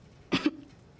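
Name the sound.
coughing twice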